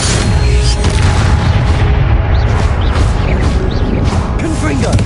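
A Confringo explosive spell in the Hogwarts Legacy video game booms loudly amid dense, continuous battle noise, heavy low rumbling blasts layered with shouted voices throughout.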